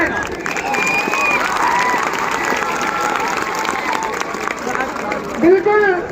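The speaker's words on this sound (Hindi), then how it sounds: "दर्शकों से कहूंगा कि जोरदार तालियों के साथ स्वागत करें" Spectators at an outdoor village cricket match applaud and cheer in a continuous crowd roar, with commentary and crowd chatter running over it throughout.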